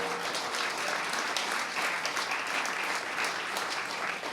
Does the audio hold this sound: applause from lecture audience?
yes